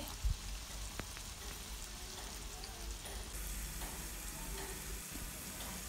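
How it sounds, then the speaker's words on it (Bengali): Masala with tomato and salt sizzles steadily as it is fried and stirred for a rohu fish curry, a continuous close crackle with a soft knock near the start. "আবারও কিছুক্ষণ ধরে কষিয়ে নিতে হবে ভালো করে নেড়ে চেড়ে"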